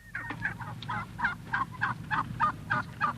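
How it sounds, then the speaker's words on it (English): A flock of turkeys, heard on a 1965 reel-to-reel tape recording, gobbles in a regular string of about ten rapid, warbling bursts, evenly spaced over a low background rumble. "That's a whole banquet of turkeys"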